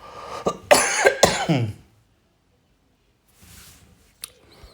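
A couple of harsh, close coughs in quick succession, followed by quiet and a faint rustle.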